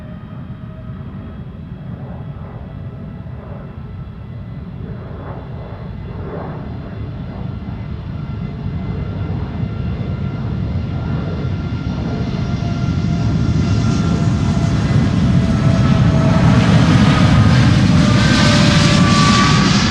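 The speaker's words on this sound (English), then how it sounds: "Canada is about to take off to Montreal." An Air Canada Boeing 787-8 Dreamliner takes off from Schiphol, its jet roar building steadily from a moderate rumble to a loud, rising thrust that swells over the last seconds, with no voices.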